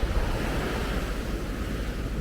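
Rough sea surf breaking on a sandy beach near Paphos, a continuous loud wash of waves with steady wind noise across the microphone and no voices.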